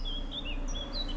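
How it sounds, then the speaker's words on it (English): Birds sing outdoors in The Witcher 3, a few thin high chirps and whistles over a steady low ambient hum, brief and fairly clear. "The birds singing, the bees buzzing."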